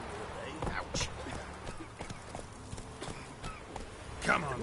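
Roach, a horse in The Witcher video game, clip-clops along at a walking pace, hooves knocking in an uneven rhythm beneath faint game ambience and a low voice.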